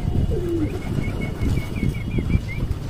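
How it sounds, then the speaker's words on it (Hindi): Pigeons coo in soft, repeated low calls, with one nearer bird and a rhythmic series of coos continuing over gentle outdoor background noise. "एक एक करके सारे कबूतर इधर ही आ रहे हैं।"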